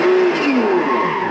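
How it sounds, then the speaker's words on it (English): Simulated engine sound from a blue wide-body Nissan GT-R R35 RC car plays loud and steady, its pitch rising and falling like revving and gear changes. "Engine sound."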